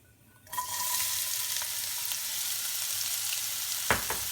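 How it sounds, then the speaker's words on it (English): Onions dropped into a pan with cumin seeds, setting off a sudden loud sizzle that holds steady, with a couple of light utensil clinks near the end. "I'm going to saute the onions until they're well cooked"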